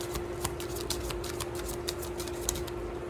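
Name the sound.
shuffling affirmation cards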